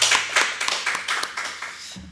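A church congregation claps together, dense and brisk patter filling a short stretch at moderate volume before a voice returns at the end.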